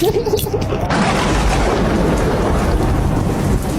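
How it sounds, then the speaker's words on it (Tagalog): Heavy rain pours steadily as a burst of thunder booms, a loud, close, continuous downpour hiss with the rumble rising near the start, no voices heard. "My God, it's raining."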